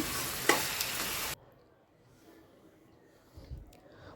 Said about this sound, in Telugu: అలా నెమ్మదిగా ఫ్రై చేసుకుంటూ ఉండాలి